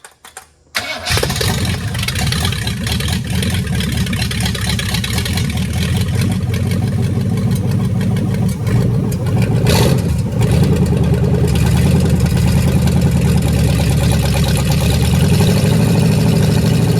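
Freshly built AMC 401 V8 in a 4x4 van cranks briefly, catches and roars to life, then settles into a loud, steady, rumbling run close by for the rest of the time.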